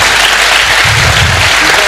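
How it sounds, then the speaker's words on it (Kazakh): Loud, dense applause from an audience at a show, a short, steady wash of clapping with a low murmur of voices underneath. "Қазақстаннан Боранқұл командасы бір қол шапалақ ұрып қояқ міне."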